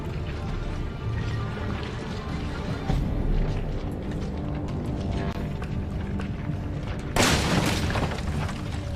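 Explosion of a bomb in the survival horror game Resident Evil 7, a sudden loud broadband burst near the end of a busy stretch of game sounds and background ambience.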